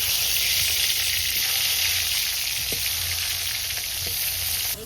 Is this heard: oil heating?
yes